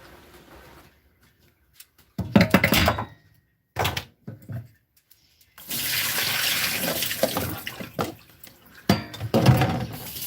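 Cut raw potatoes for French fries are drained in a kitchen strainer at a sink, with bursts of splashing and running water, a couple of short thunks, then a longer steady pour that fades out near the end.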